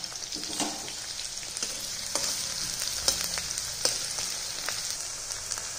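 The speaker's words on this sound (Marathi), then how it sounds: "आता त्याच्यामध्ये आपण कांदा टाकलेला आहे आणि व्यवस्थित आपल्याला कसं फ्राय करून घ्यायचं आहे" Onion frying in hot oil for a bombil bhaji, a constant close sizzle with occasional sharper pops and crackles, no voices.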